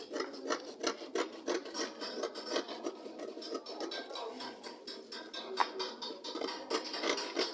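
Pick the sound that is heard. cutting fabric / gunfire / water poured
cutting fabric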